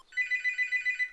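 A single electronic telephone ring, a short trilling burst of rapid pulses lasting about a second, clear and alone against silence.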